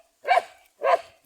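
Two sharp barks from a dog, evenly spaced about half a second apart, fairly close and loud with silence between them.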